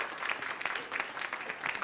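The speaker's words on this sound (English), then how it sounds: "You get some more applause for that when you do stuff like that." Studio audience at a television interview applauding, a fairly faint, steady patter of many hands clapping with slight swells, no talk over it.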